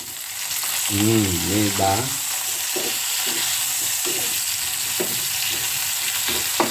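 Small fried fish go into a hot pan with tofu nearby, raising a continuous loud sizzle with scattered clinks and stirring knocks, while someone talks briefly near the start.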